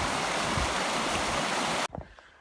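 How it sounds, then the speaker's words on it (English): River water rushes in a steady, loud, broadband roar while a vehicle fords the river, then cuts off abruptly into near quiet with a few soft knocks. "Got our first major river crossing of the day"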